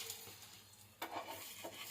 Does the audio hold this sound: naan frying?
yes